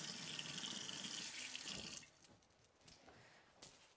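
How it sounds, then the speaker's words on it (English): Water from a tap runs loudly in a steady rushing stream for about two seconds, then stops, leaving faint drips and light clatter. "We'll run the water."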